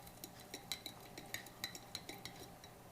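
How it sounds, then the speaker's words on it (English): A spoon stirs a drink mixed from an MRE ration, giving a quick, even run of faint clinks against the container. "let's stir our drink up one last time."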